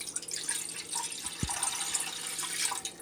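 A kitchen tap runs to measure water for cooking rice, giving a steady hissing splash that goes on without a break, with one low thud partway through.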